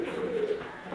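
Pigeon with wing paralysis cooing close by, a single soft throaty coo with a low rolling tone, no voices over it.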